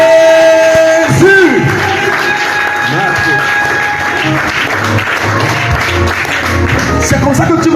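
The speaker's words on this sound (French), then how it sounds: "Est-ce qu'on peut acclamer le Seigneur très fort?" A church congregation cheers and acclaims the Lord, a loud crowd roar of shouts and clapping that builds after a sustained tone and continues steadily throughout.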